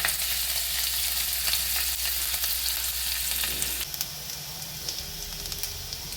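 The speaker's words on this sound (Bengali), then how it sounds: "এখানে আমি 1 টেবিল চামচ তেলে কুচনো পেঁয়াজটা দিয়ে দিচ্ছি।" Chopped onion frying in a tablespoon of oil, a dense, steady crackling sizzle up close that drops slightly in level partway through and continues more softly.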